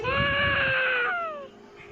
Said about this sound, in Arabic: الصوت ده صوت الطفل بيعيط اللي ماما قالت لي عليه.